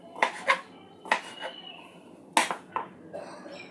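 Ridge gourd is cut into pieces, giving a few sharp, close knife chops and clicks against a board, spaced irregularly with quiet gaps between.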